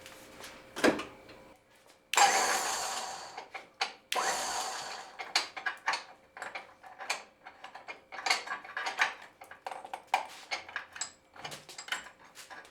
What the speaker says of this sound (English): I want to see if this winch works.